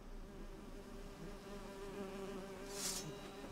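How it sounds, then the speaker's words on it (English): A swarm of bees buzzing in the video game Witcher 3: Hearts of Stone, a dense droning hum that holds steady and close throughout, swelling slightly near the end, with no talking. "Oh good, a swarm of bees."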